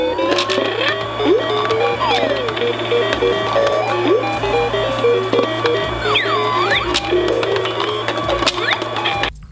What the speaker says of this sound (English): Something about the balls popping up